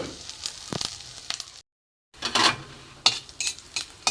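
Whole cumin seeds crackle and sizzle in hot mustard oil with a bay leaf and dried chillies, a bright spitting hiss with sharp pops, broken by a brief silent gap before the frying resumes loudly.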